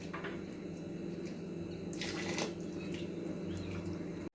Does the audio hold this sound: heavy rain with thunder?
no